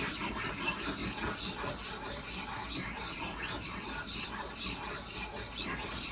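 A sharpening stone rubs steadily back and forth along the gib of a Vevor MX 400 mini lathe, knocking down high burrs; a continuous close, gritty rasping with no pauses and no speech.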